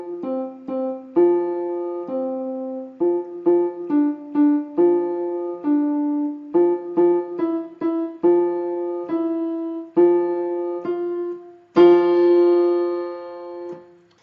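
A piano plays the simple beginner piece Dance Band Drummer with the middle fingers, starting near middle C: short, separated notes in a steady rhythm, ending on a longer held chord, clear and close.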